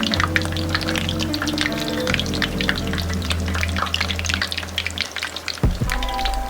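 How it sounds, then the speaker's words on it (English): Breaded vegan wings frying in oil in a wok, a loud, dense, crackling sizzle that holds steady and close throughout, with a low steady hum beneath and no talking. "We got our oil here in our wok. Let's go ahead and fry these bad girls up."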